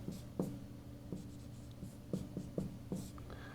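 Marker or chalk writing units on a board during a physics lecture on inductance: a series of short, faint scratchy strokes and taps in a quiet room, spaced irregularly over a few seconds.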